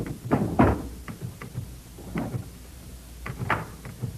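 A drawer in an office at a fire tower station slides open in an old-time radio drama, a few close wooden thumps and scrapes in sequence with no voices.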